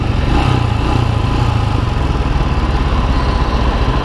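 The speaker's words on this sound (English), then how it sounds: "This is how I brake. So gradual braking." A motorcycle engine runs loud and close throughout, a steady, rough mid-pitched drone that holds an even level as the bike is gradually braked.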